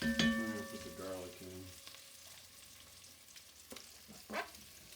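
Garlic hits the pan beside braising lamb shanks for an Armenian braised lamb dish and fries with a steady close sizzle. A brief clatter of stirring comes at the start, and the frying eases to a softer crackle.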